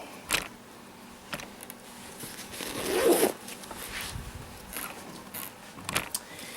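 Zipper on a survival pack's large compartment pulled open in one longer drag near the middle, with a few short clicks and rustles of gear around it, close and fairly quiet.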